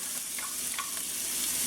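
Onions sizzle in coconut oil in a skillet, a steady close hiss with a few light stirring scrapes, no talking.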